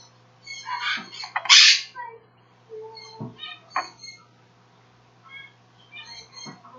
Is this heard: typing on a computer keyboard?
no